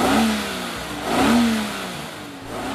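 Maserati Quattroporte III with a V8 of up to 4,930 cc and 300 hp revving, a deep, rich engine note rising and falling in two strong surges over a steady idle, close and loud with no talking.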